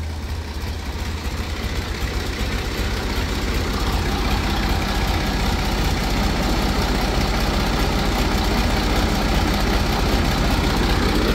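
A Ford 4610 two-wheel-drive-axle tractor engine runs steadily with its front axle engaged, giving a loud, continuous low diesel drone that holds even for the whole stretch without voices.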